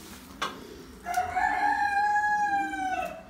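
A Vorwerk rooster in a henhouse gives one long crow, loud and close, after a short sharp sound at the start.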